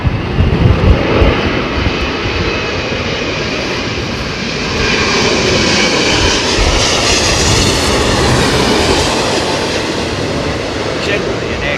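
An airliner landing in a crosswind at London Heathrow gives a loud, continuous roar of engines and rushing air that swells slightly midway and holds steady throughout.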